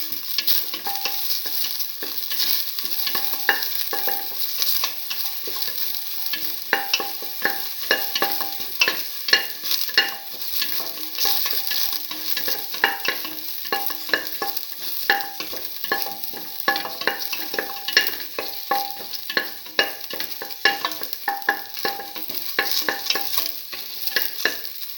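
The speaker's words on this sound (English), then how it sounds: "Toss till the shallots lose the pinkish color." Shallots sizzle as they are stir-fried and tossed in a hot pan, a steady close crackle with frequent small scraping stirs across the whole stretch and no talking.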